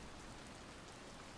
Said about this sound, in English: Right in the rain.